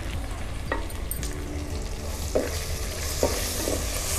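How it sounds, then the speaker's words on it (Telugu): Small bitter fish fry in a tempering with chopped tomato and turmeric, the pan sizzling steadily and close by, with a few scraping stirs of a utensil breaking through; no one speaks. "ఈ తాలింపు చేపలు ఇవన్నీ ద్వారగా వేగినాయి కదా"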